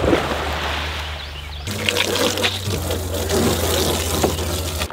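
Water running on a homestead to fill a cow's drinking trough, a steady rushing and splashing flow that changes pitch as the container fills, with a low hum underneath.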